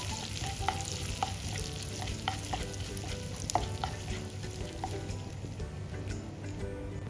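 Half a teaspoon of cumin seeds sizzles in hot butter in a pan for aloo chana, a close, steady crackling fry broken by the light scrape and clink of stirring.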